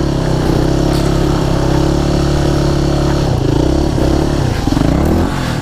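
Scooter engine loud and close, revving steadily for several seconds with pitch dips and surges as the rider attempts circle wheelies, a continuous motor drone throughout.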